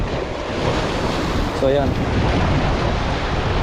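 Sea waves surge and crash continuously against a rocky, cave-like fishing spot, with strong wind buffeting the microphone; someone speaks briefly partway through.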